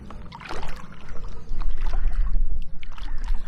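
Rhythmic splashes and swishes of a kayak paddle dipping into a river while paddling upstream with a breeze from behind, close and fairly loud against a low rumble of wind.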